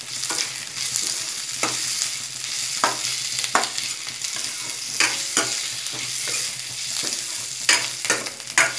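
Tomatoes stirred into onions frying in a pan, soft sizzling under repeated scraping strokes of a spoon or spatula at an irregular pace, close and moderately quiet, no voices.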